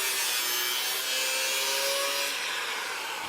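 A non-structural metal bar under an electric car being trimmed during a battery pack build, a steady close rasping, sawing scrape running without pause for a few seconds with no voices.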